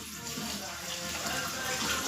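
Cold tap water runs in a steady, close gushing stream while something is washed under it in a home kitchen.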